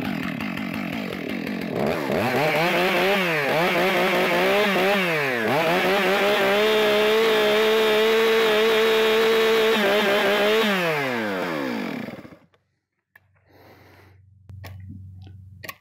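A chainsaw revs loudly, its engine rising and falling through several throttle bursts before holding a high whine, then cutting off abruptly near the end.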